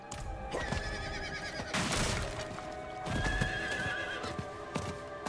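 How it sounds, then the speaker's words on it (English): A horse whinnies twice with clip-clopping hooves throughout, over a steady, busy soundscape in the video game Diablo 4. "it's nice having a horse though"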